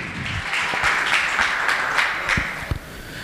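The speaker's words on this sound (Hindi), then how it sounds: "एक बार जोरदार कर्तव्य ध्वनि से तालियों के साथ स्वागत करें" Audience applause welcoming a guest at an Indian school farewell and convocation ceremony, a moderate, steady wash of clapping from a crowd lasting a few seconds.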